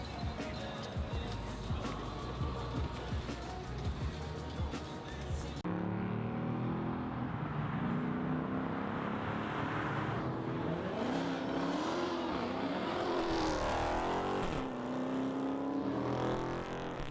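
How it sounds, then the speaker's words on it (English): A car with a Whipple supercharger revs nearby. Its engine rises and falls in rough surges, and the supercharger whine climbs in pitch, with crowd noise and brief voices around it. "that's a unique supercharger on there. The Whipple."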